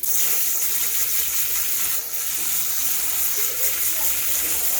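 Water from a microwave-poached egg, mixed with vinegar, is strained into a sink, making a steady pouring gush and splashing throughout, close and fairly loud.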